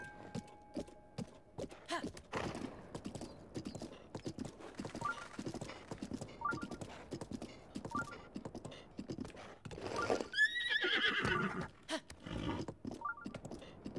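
A horse gallops across open ground in Zelda: Breath of the Wild, its hooves clopping in a steady, close rhythm, with a brief whinny partway through.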